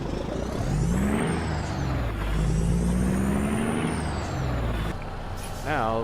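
A CAT CT660 truck in American Truck Simulator brakes to a stop with its air brakes. Heavy engine rumble with rising and falling whines fades out, followed near the end by a short, sharp pneumatic burst.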